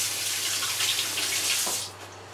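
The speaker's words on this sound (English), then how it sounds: "Let me just wash my hands" Hands washed under a running kitchen tap, a steady close rush of water that cuts off near the end, leaving quiet room tone.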